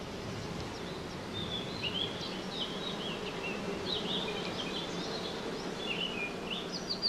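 A honeybee colony buzzes during a hive inspection, a steady close drone of many bees with faint bird chirps scattered above it, no speech.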